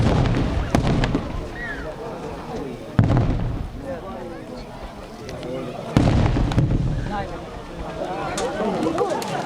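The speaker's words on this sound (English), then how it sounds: "In the Battle of Jon L, the army used mortars and tank cannons." Army mortar and tank cannon fire during the Battle of Jon L, with heavy booming blasts at roughly three-second intervals over a constant rumble, and voices and shouting audible throughout.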